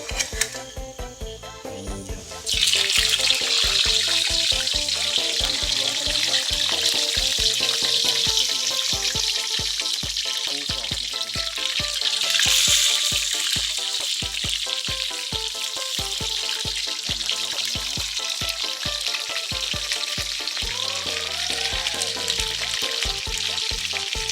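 Pork pieces hit smoking-hot oil for Thai crispy pork and at once set off a loud, dense, steady sizzle. Close bubbling crackle continues without letup for the rest of the clip.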